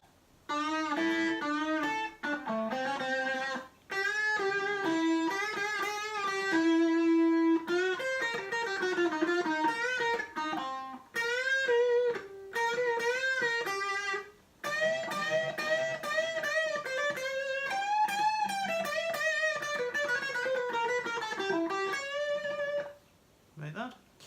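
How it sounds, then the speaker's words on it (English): A distorted electric guitar plays a solo, with sustained, bending melodic lines and phrases separated by brief gaps, loud and close and heard alone. "So all together, our solo should sound like this."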